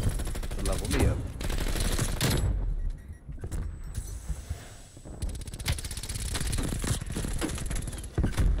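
Guns firing in Call of Duty Black Ops Cold War: sharp, rapid bursts of shots come in clusters, with a brief quieter gap between volleys and dense game noise throughout.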